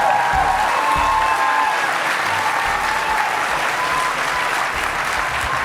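Sustained, loud applause from a debate audience for the candidates, steady dense clapping filling the whole stretch with no break.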